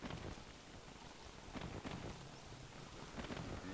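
Steady rain in the game Don't Starve Together, a dense continuous hiss with faint low rumbles, steady and fairly loud throughout.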